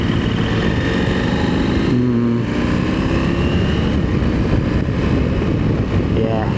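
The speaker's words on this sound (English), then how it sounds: "I might just give it a little squirt and go past them if I can" A motorbike on an open Netherlands road, its engine note rising in a short burst of acceleration to overtake a Volkswagen Tiguan, with loud wind and road noise and a person speaking over it.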